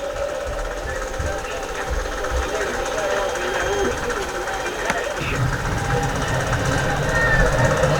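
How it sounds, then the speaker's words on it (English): A sewing machine stitches quilt pieces together for a star quilt, running as a steady rapid mechanical rattle throughout while a person talks over it. "So we're going to go ahead and put this one together and sew it down."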